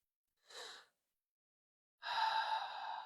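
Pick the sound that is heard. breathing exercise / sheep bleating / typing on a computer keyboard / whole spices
breathing exercise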